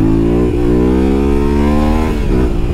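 A 2022 Yamaha Ténéré 700 World Raid accelerates hard in second gear, its engine loud and close in a steady droning growl that climbs in pitch, with brief dips around each shift in throttle.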